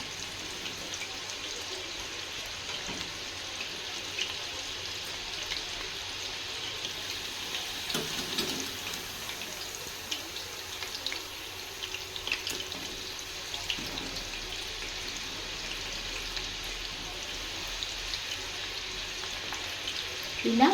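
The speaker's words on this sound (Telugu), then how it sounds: "మళ్ళీ ఒకసారి పట్టుకొని మళ్ళీ ఆయిల్లోకి వదిలేస్తే ఇంకా మంచిగా కుక్ అవుతాయండి లోపల నుంచి." Chicken 65 pieces deep-frying in hot oil on a low flame, a steady soft bubbling sizzle that continues throughout with small spikes as pieces are lifted and dropped back, under quiet talk.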